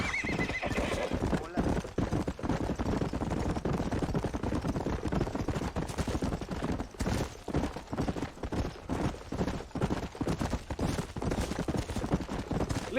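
Horse hooves clip-clop steadily on the ground in the Western video game Red Dead Redemption, set in Nuevo Paraíso, mixed under dense game audio and ambient noise that run throughout.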